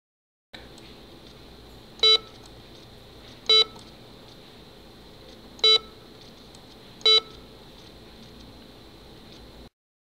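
Windows volume control slider beeps when clicked and released, four identical short electronic tones spaced a second or two apart over a faint steady hiss.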